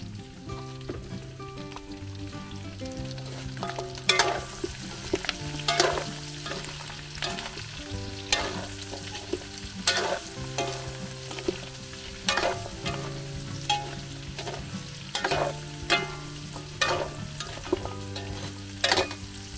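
Onion, garlic and chili sautéing in a hot pan, a steady sizzle punctuated by regular spatula strikes and scrapes, with a low background hum underneath and no speech.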